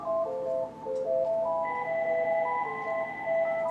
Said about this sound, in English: I want to excuse my phone is going off.